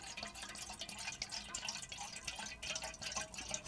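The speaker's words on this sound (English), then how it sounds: "let's put a generous glug of this in. Like, into the pan." Glühwein mulled wine is poured into a pan on a gas stove, a faint, quiet trickle of liquid with light dripping and splashing.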